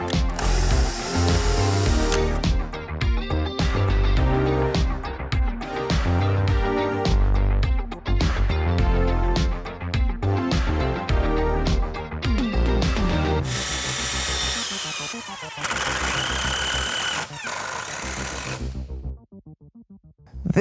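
Tool cutting threads into a part for a Ghostbusters proton pack, a dense ratcheting, mechanical grinding that runs loud and close almost throughout, with brief changes in pitch and a short quiet drop near the end.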